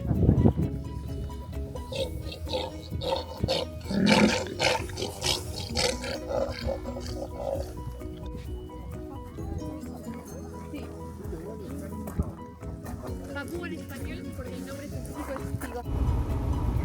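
Deep roars and barks from a group of sea lions in Patagonia, mixed with a person talking nearby and outdoor background noise throughout.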